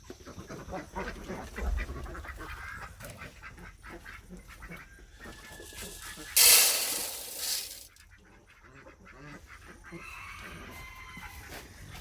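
Ducks quacking around a farmyard during morning feeding, a loose scatter of calls over steady background noise with one louder, broader burst partway through.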